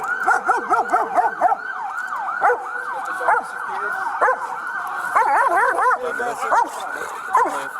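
A dog barks and whimpers in a rapid, agitated series close by during a police response to a dog bite, with a siren wailing and voices shouting throughout.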